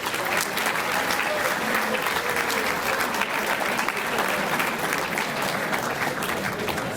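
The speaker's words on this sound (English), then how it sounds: "Why don't you give yourselves a round of applause?" A banquet crowd at a boys' 'A' OFSAA volleyball tournament in Kitchener bursts into loud, dense applause, steady clapping filling all seven seconds without a break.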